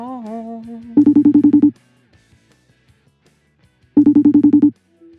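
A telephone rings back while an outgoing call is placed, two bursts of rapid electronic trills separated by a couple of seconds of near silence, loud and close, after a brief voice at the start.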